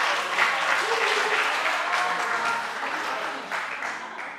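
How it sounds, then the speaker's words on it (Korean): Audience applause at a Friday church gathering, a continuous close crowd of clapping hands that slowly fades, with a faint voice beneath. "박수 한번 치겠습니다"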